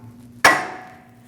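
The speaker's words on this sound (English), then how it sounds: "You can take a punch and a hammer and do it easily." A punch and hammer peen the CV axle nut on a 2014-2023 Jeep Cherokee 2.4L: one sharp, close metallic strike with a ringing decay over a low steady hum, and no talking.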